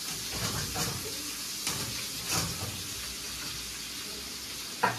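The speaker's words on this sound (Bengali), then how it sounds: "এখন এদিকে আলু ফুলকপি ভাজছি, এই যে দেখো।" Potatoes and cauliflower fry in a pan with a quiet, steady sizzle and hiss. Occasional stirring scrapes and clinks cut through now and then.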